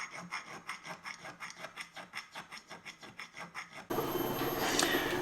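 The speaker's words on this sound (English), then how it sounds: "So right around the edge, round file, give it a little shot," A round file rasps along the edge of an old axe head to chamfer the corner, a rhythmic series of about sixteen close, scratchy strokes, followed by a brief steadier hiss near the end.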